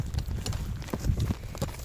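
Horse hooves clip-clopping on the ground in an uneven run of dull thuds, fairly close and moderately loud, with faint background noise and no clear speech.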